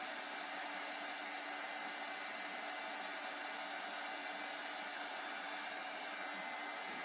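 A hair dryer runs steadily while drying fusible interfacing for box making, a constant close airy roar with no pauses and no voices.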